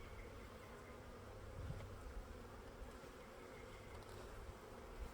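Honey bees from a caught swarm hum steadily around a horizontal Layens hive, a dense continuous buzz close by with no voices.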